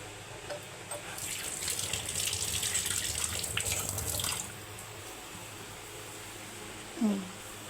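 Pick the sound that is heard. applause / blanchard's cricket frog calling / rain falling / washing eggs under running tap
washing eggs under running tap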